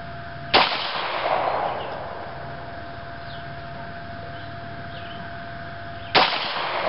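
Two sharp, loud HK USP .40 pistol shots, about five and a half seconds apart, each with a brief ringing echo. Steady low background noise fills the gap between them, with no talking.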